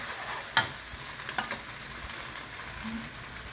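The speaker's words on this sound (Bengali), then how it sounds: "এবার মশলাটা ছেড়ে দিচ্ছি এর মধ্যে হলুদ দিয়ে দাও" Spice paste with turmeric frying in hot oil for a chicken dish, a steady close sizzle with a few faint clicks and stirring taps, no talking.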